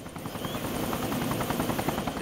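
Helicopter in the Arma 2 DayZ Mod game, its rotor beating in an even rapid rhythm over a constant engine whine, close and steady throughout with no voices.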